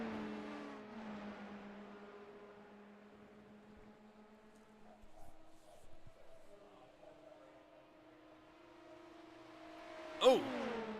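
LMP2 prototype race cars lapping a track in the iRacing sim, engines droning in steady sustained tones that shift pitch as they accelerate and lift, with a sharp burst near the end.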